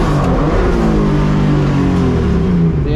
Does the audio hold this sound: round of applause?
no